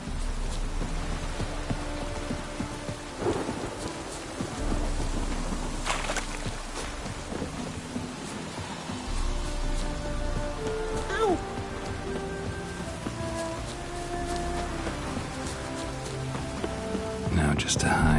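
Steady rain in The Witcher 3 patters and hisses throughout, mixed with low game ambience and occasional thuds, with a voice speaking faintly underneath.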